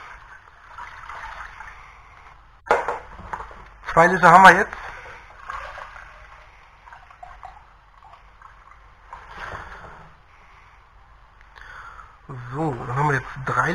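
Water from a container pours in a few bursts into a plastic measuring cup while filling a hydroponic tank for pak choi, the gurgling splashes sitting close and fairly loud between stretches of someone talking.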